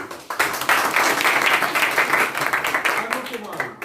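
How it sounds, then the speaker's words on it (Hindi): Classroom applause as pupils clap for a classmate during a Hindi grammar lesson, a steady burst of many hands lasting several seconds and thinning toward the end, with the mixed clapping filling the room. "ताली"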